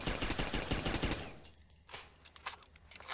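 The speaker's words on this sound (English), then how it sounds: "So put the suppressor on the submachine gun as well." Suppressed submachine gun fire in the video game Interstellar Marines: a rapid run of muffled shots for about a second and a half, followed by a few scattered single shots against quieter game ambience.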